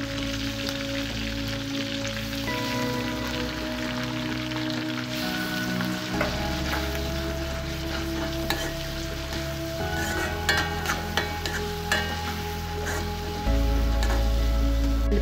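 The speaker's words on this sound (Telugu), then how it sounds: "కరివేపాకు ఫ్రై అయిన తర్వాత ఆనియన్ పేస్ట్ వేసుకోవాలి." Curry leaves and onion paste frying in a pan for goat head curry, giving a steady close sizzle with occasional stirring scrapes that continues throughout with no talking.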